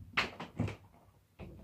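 A cupboard door in a quiet room is banged shut three times, each a sharp, close knock with a short rattle, the last one after a brief pause.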